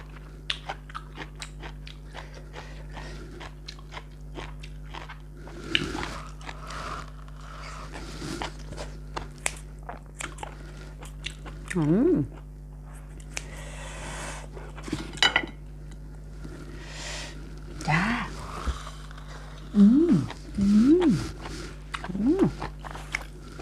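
Close, crisp crunching and chewing of boiled beef tripe eaten with blanched vegetables and seafood dipping sauce, in repeated bites with soft clicks of utensils and dishes and a few brief murmured sounds of enjoyment.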